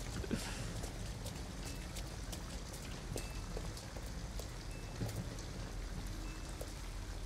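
Steady rain falls in the Detroit: Become Human video game, a constant patter of drops on surfaces at moderate level with no voices.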